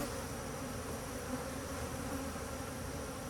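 Inside a beehive, a mass of honeybee drones keeps up a thick, even buzzing hum, steady and unbroken with no voices over it.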